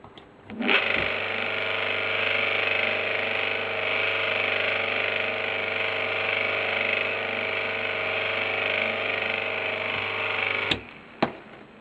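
A steady electric motor hum from an old Soviet washing machine motor running idle runs unbroken for about ten seconds, then cuts off abruptly, close and fairly loud.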